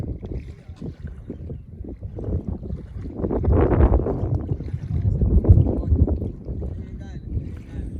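A fully loaded dugout canoe moves on the Zambezi River, with low rushing water and wind buffeting the microphone, rising and falling steadily over the whole stretch.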